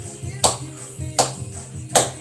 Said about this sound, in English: Let's clap along